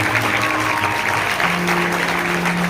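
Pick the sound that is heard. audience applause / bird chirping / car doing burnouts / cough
audience applause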